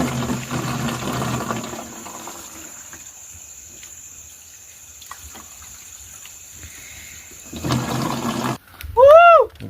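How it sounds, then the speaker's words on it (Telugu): Water streaming out at a campsite, heard as short bursts of rushing flow at the start and again near the end, with a quiet stretch between and a brief squeaky tone at the close. "చాలా ప్యూర్గా వస్తున్నాయి బావ నీళ్ళు అయితే అస్సలు"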